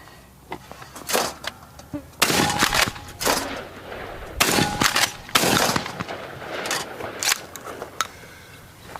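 Shotgun rounds from a Winchester SXP or Stoeger P350 pump shotgun fire as several sharp, loud blasts spaced irregularly. Mechanical clacks between them could be the action being worked.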